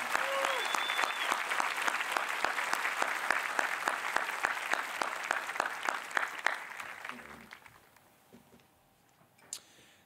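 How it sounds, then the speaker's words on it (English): A graduation audience at Franklin High School applauding, dense sustained clapping from a large crowd that fades out over the last few seconds, with a brief voice near the end. "Please, a large round of applause for the leadership of this great community."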